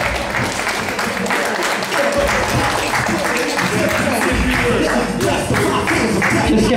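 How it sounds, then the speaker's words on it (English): An audience at a gallery event in downtown Los Angeles claps in a dense, sustained round of applause, with voices and talk mixed in underneath. "Let's give a round of applause to one of our best friends."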